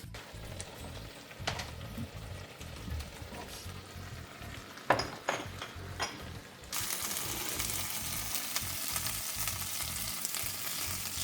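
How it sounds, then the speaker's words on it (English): Food sizzles as it fries in a pan with a steady hiss broken by a few clanks of a utensil, then turns into louder, dense frying for the rest of the clip. "Sizzling."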